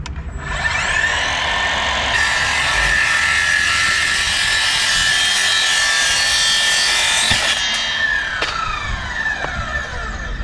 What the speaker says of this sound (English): I'm using the mitre saw so I can get a nice square cut